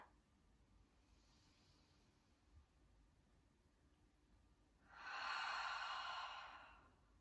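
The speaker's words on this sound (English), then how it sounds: "And exhale. One more biggest breath." A single deep, slow exhale during a guided yoga breathing exercise: a soft, breathy rush of air that rises late, holds for about two seconds and fades, following near silence.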